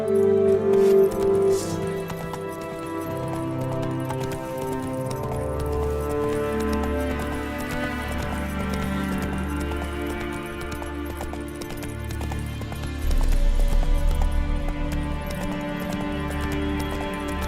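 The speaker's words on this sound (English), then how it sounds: "Giddy up." A horse trotting and galloping in The Witcher 3, with a steady run of hoofbeats and clinking tack under game music, continuing for a long stretch.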